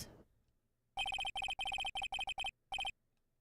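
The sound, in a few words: Discord notification sound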